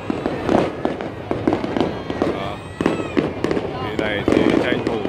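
Fireworks burst over crowded Saigon streets on the 30 April holiday, a dense continuous crackle of pops and booms beneath the din of the watching crowd, with people talking throughout.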